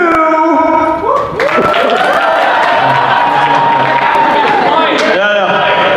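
An opening-ceremony crowd at a convention breaks into loud cheering and clapping after a brief shout, and the applause rolls on steadily while a voice carries over the noise.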